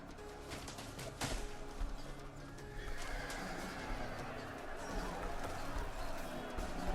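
Horses of a cavalry force neigh and whinny in a massive video game battle, with hoofbeats and a dense battlefield din beneath, fairly distant and moderately loud.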